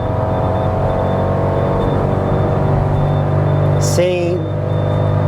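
A 2022 Fiat Argo S-Design 1.0 accelerating at full throttle in third gear, a steady droning engine note that holds near the rev limit, with a brief whine and rising tone shift toward the end.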